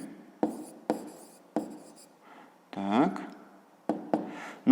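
A pen writes on paper while a fifth-grade math exercise is worked out: quick taps and short scratches come in bursts, with a longer scribble in the middle, under a voice speaking quietly.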